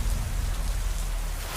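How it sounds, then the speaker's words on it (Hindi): Heavy rain pours down steadily in a dense, hissing wash of drops with a low rumbling undertone, loud and continuous with no voices. "इतनी तेज बारिश होने लगी कि मानो जिस्म में छेद कर दे।"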